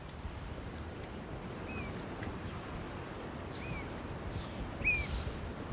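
Wind and sea waves on the Shetland Islands coast, a steady broad rushing roar with buffeting on the microphone, faint bird calls now and then above it, continuous and fairly close.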